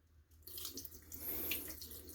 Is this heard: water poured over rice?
yes